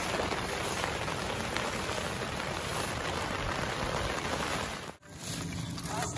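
Steady rain pouring outside a tent at a campsite in Megamendung, Bogor, a dense continuous patter on the fabric close around, unbroken except for a momentary dip near the end.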